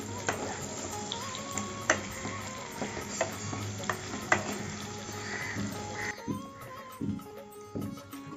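Spiced kakrol, a spiny gourd seasoned with turmeric and salt, frying and being stirred in a pan, giving a steady close sizzle with repeated scrapes of a spoon against the metal and a quieter stretch near the end.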